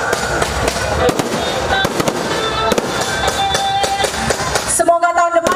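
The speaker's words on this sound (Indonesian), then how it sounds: "Semoga tahun depan kita masih ada kembang api seperti ini ya." Fireworks at the peak-night city anniversary celebration of Mentok, Bangka Barat, popping and crackling loudly in rapid bursts, ending in a cluster of sharp bangs.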